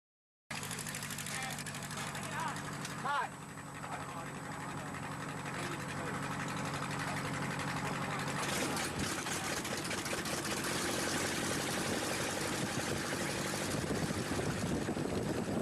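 Formula One racing airplanes roar through an air race at Albuquerque, New Mexico, in 1988. Their engines make a constant, buzzing drone at a distance that thickens and grows busier partway through, with a voice talking over it.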